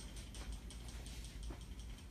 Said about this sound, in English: shake the can.